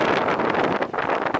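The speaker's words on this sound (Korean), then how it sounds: "바람 소리 들리시죠?" A strong westerly wind at Naksan harbour on the Korean coast buffets the microphone with loud, continuous roaring rumble and gusty flutter.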